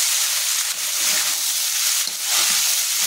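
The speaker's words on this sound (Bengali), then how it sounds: "ভাতটা ভাজছি অনেকটাই তো" Rice fries in a hot pan, giving a steady, loud sizzling hiss. A few faint clinks and stirring sounds come through the frying.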